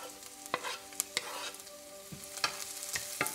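Garlic cloves sizzle in a pan with translucent onion over lowered heat, a steady soft frying hiss punctuated by light clicks of stirring, heard close with no talking.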